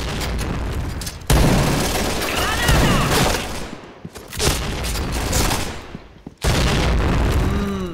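Grenade blasts and heavy gunfire in a multiplayer shooter video game, loud booming bursts and rapid shots with brief quieter gaps, dense and close.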